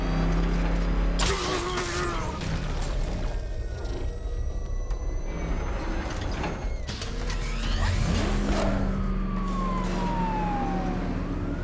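A car in Batman Arkham Knight roars and accelerates hard, engine noise loud and continuous, with sirens wailing and rising and falling in the distance.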